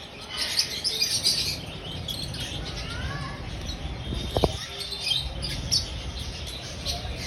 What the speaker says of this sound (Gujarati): લવ બર્ડ